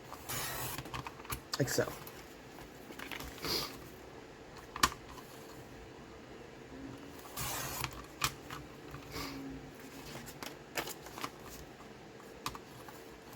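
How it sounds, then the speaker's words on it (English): A paper trimmer cuts the ends off an envelope, giving a few scattered sharp slicing clicks and swishes amid paper handling, close by, while someone talks. "take your paper trimmer, and we're going to cut off the ends of our envelope"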